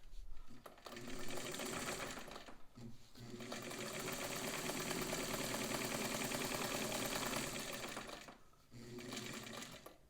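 A rare Anker heavy duty zigzag sewing machine stitches in rapid mechanical bursts, a loud rhythmic clatter running in two long spells separated by short pauses.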